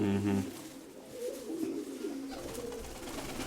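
Pigeons cooing in a loft with a nesting bird on eggs, soft low throaty coos repeating close by over a faint background hum, with a little nearby noise and no clear talk.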